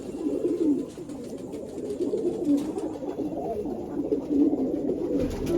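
A flock of pigeons coos steadily in a loft, overlapping low, rolling calls forming a continuous close murmur without any talking.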